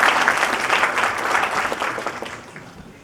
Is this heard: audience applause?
yes